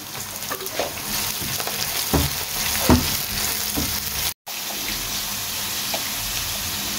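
Onions frying with red and green chilies in a pan for a fish curry, a steady dense sizzle with a few scattered stir clicks, continuous apart from a brief dropout partway through.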